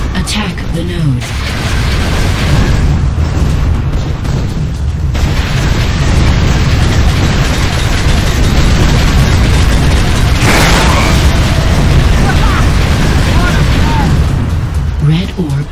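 Missiles detonating during a Warfare match on the Cold Harbor map in Unreal Tournament 3, a heavy, continuous roar of explosions and blasts, loud and close, with bursts of booms layered under announcer voice callouts.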